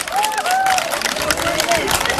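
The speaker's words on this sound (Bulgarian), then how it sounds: "Аплодисменти за Мария Цветанова и танцовия състав." An audience at a dance performance claps and cheers for a dance troupe, steady crowd noise with a voice talking over it.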